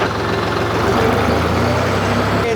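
A Deutz Fahr 55 HP tractor's diesel engine chugs loudly up close as it pulls away in first gear, a steady low throbbing rumble.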